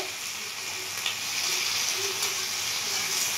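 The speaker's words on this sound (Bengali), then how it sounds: "এই ফুলকপিগুলো এবার ছেড়ে দিলাম ফোড়নটা পুড়ে যাওয়ার পর" Cauliflower florets fry in hot oil in a pan after the tempering spices have browned, making a steady, quiet sizzling hiss throughout.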